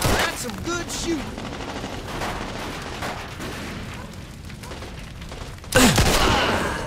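Sustained gunfire in a Mafia II shootout, steady rapid shots throughout with a louder close burst near the end, and some background voices.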